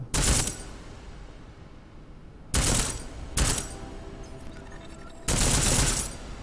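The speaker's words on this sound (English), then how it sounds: "I do like that the rounds actually sound different when you use HE" Loud high-explosive rounds fired at a firing range in Deus Ex: Mankind Divided: four sharp, booming shots spaced irregularly, each with a short ringing tail over a low hum.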